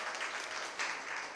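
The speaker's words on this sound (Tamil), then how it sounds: "நல்ல கைத்தட்டு" Audience applause in a large hall at a Tamil pattimandram talk, a dense steady clatter of many hands, loud and close, swelling briefly near the end.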